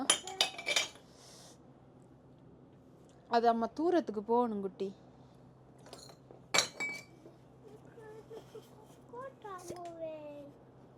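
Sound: glass bottles and glasses clinking

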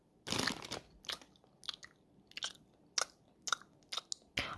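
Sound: chewing Sour Patch candy

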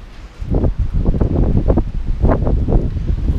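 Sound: wind blowing

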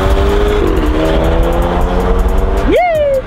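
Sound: car making an unusual noise

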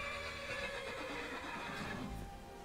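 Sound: horse neighing in video game Skyrim

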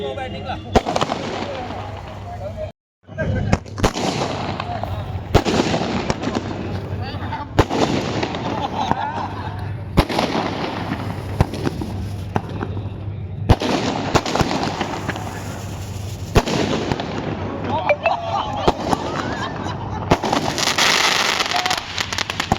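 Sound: fireworks display

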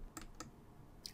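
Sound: typing on a computer keyboard

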